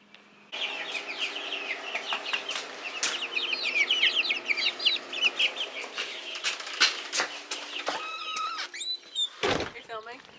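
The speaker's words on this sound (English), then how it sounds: "we're moving the chicks out to the chicken house" Chickens and chicks cluck and peep in a chicken house, a dense, close chorus of rapid chirps with occasional louder squawks and a sharp knock near the end.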